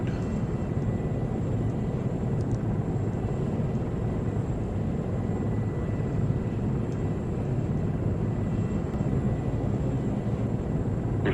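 Aircraft in the Arma 3 video game lifting off and moving nose forward toward an oil field target area, a loud, steady engine roar filling the whole stretch without pause and with no speech.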